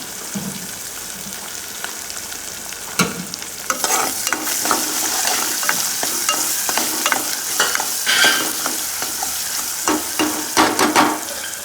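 Chopped onion frying with ginger-garlic paste for a spicy chicken dish, a steady close sizzle broken by repeated scraping stirs of a spoon against the pan, growing busier toward the end.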